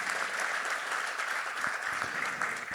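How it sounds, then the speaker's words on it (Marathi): Sustained audience applause at an awards ceremony honouring everyday heroes, a dense steady patter of many hands clapping with no voices over it. "त्यामुळे त्यासाठी जरा जोरदार टाळ्या झाल्या पाहिजेत."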